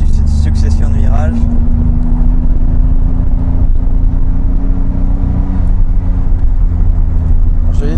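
Sports car, a Renault Alpine GT, accelerating hard through a series of corners, its engine droning steadily and close up, with a constant rumble and occasional higher whine as it holds speed.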